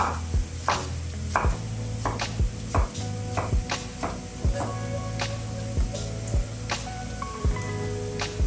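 A knife chops eggplant into large cubes on a cutting board with steady, sharp, close knocks. The strikes are evenly spaced over a constant background hiss, and no one speaks.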